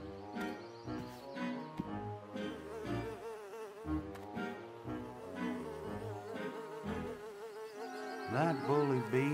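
A cartoon bully bee from a Christian animated series buzzes loudly and close, its wavering drone rising and falling continuously, with a sharper swooping buzz near the end and no talking over it.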